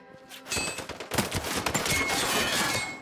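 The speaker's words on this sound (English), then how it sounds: "Who's shooting?" Gunfire in the video game Sniper Ghost Warrior 3: a dense fusillade of rapid, loud shots that breaks out after a quiet half second and keeps rattling steadily to the end.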